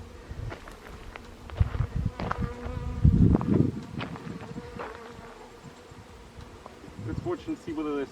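A small honey bee swarm near a hive box in New Zealand buzzes steadily at close range, with scattered bee flights passing the microphone and a louder swell of buzzing midway, plus faint thumps and rustling.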